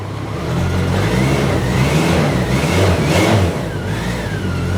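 BMW K75 motorcycle engine being revved, a steady loud mechanical drone that rises in pitch, peaks, and settles back to a lower idle-like hum.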